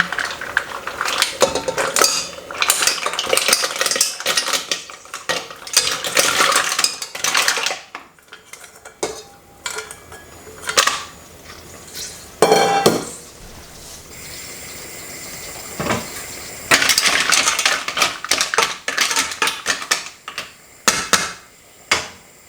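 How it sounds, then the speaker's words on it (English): Mussels tipped into a metal pot for a Spanish-style marinera dish, hard shells clattering and rattling in loud rapid bursts with brief pauses, close up and alone. "it's really about time I put the mussels in"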